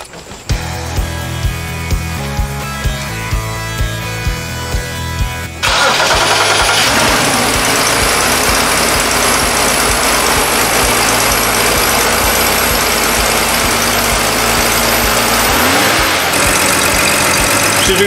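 A BMW car engine, just repaired for a vacuum leak with an o-ring replacement, cranks with a rhythmic churning, then catches and roars into a loud, steady idle that holds close by for over ten seconds.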